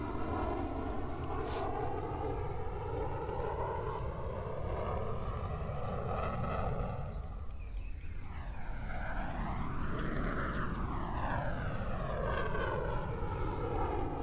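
Two fixed-wing display aircraft fly a synchronized routine at the Royal International Air Tattoo, their engines roaring steadily throughout, with a loud doppler sweep as one crosses close by midway, then rising and falling as they separate.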